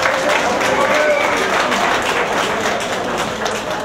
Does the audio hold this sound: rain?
no